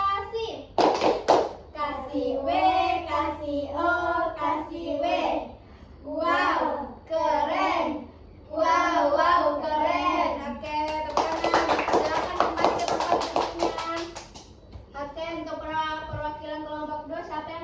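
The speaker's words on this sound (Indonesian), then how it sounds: "Oke, tepuk tangan" Children in an Indonesian classroom clap their hands in a burst of rapid, dense applause that lasts a few seconds, set between stretches of a teacher and kids speaking and chanting.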